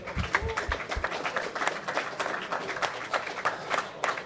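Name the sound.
audience applause for grappling match competitors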